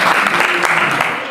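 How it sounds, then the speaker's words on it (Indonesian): A congregation at a church fasting prayer service at Gunung Salak, Bogor, applauds loudly and close by, a dense burst of clapping with a voice speaking over it. "Berikan tepuk tangan, jangan tanggung-tanggung."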